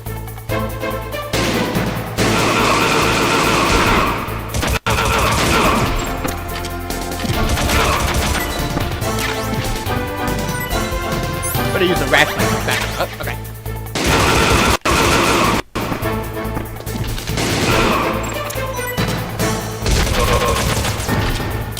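Metal Gear Solid gunfire, loud rapid automatic bursts and crashing impacts layered over game music, continuing densely with a couple of brief dropouts, while voices speak intermittently.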